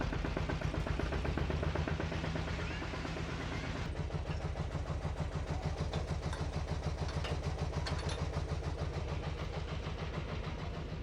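The engine of a pull-start farm vehicle runs steadily nearby with a fast, even chugging throb. It continues unbroken throughout, with no talking.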